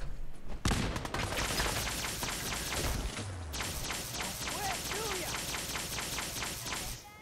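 Gunfire in the video game Fallout 4, a dense burst of rapid repeated shots running almost continuously at close range, with a brief lull partway through.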